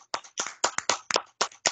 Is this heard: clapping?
yes